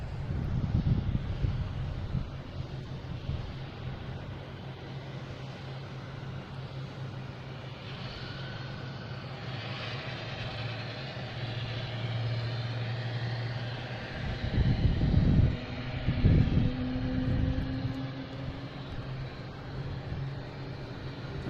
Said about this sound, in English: UPS, flight 5014, landing on 27.